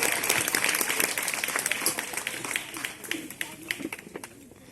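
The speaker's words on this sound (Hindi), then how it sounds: "कृष्णा गौर जी, जोरदार तालियों से स्वागत होना चाहिए" Loud applause from a crowd welcoming a guest at a public event, dense clapping that runs throughout and slowly thins toward the end, with scattered voices mixed in.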